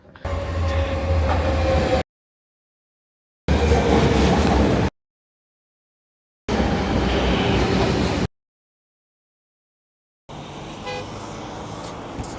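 Marmaray metro train rumble in bursts separated by silent gaps, loud and close, like a rail car passing while recorded in segments; no talking.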